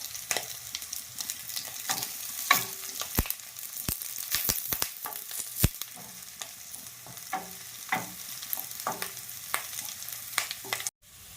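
Curry leaves fry in oil for an eggplant curry, a soft steady sizzle broken by repeated sharp clacks and scrapes of a spoon stirring the pan.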